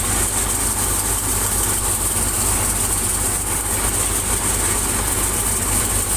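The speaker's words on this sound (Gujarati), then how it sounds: "હંમેશા કોઈ પણ પાકની અંદર આપણું ટ્રેક્ટરના 1100 આરપીએમ ઉપર જ હોય." A farm tractor engine running steadily at about 1100 rpm, a loud, even, close-up drone with a low rumbling throb and no pauses or voices.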